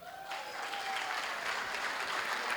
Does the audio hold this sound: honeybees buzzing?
no